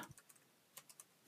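Short, quiet burst of keystrokes on a computer keyboard while writing PySpark code: a handful of light, irregular clicks spaced apart, alone without talk.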